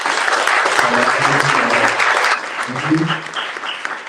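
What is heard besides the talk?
audience applause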